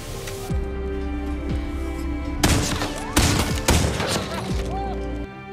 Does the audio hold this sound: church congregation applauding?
no